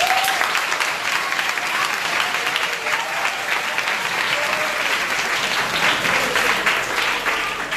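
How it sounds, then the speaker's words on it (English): School staff at a Godsent Foundation international schools meeting clap for their director, a steady, fairly loud burst of many hands applauding together that continues throughout. "You can clap for me now."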